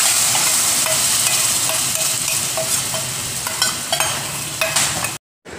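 Red chilli coconut chutney hisses and sizzles loudly in a hot pan as it is stirred, with scraping spoon clicks over steady frying, then a sudden brief silence near the end.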